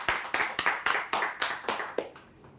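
Rhythmic clapping at a prize-draw announcement, about eight sharp, evenly spaced claps in quick succession, fairly close and clear, stopping abruptly after two seconds.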